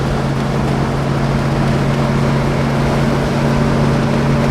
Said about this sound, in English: not objectionably loud exhaust wise, just a nice deep tone to it.